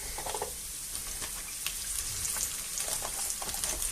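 Fish and seafood broth hits a hot pan with paprika for a mussels and fish stew, giving a steady close sizzle and crackle of frying liquid throughout, with no talk.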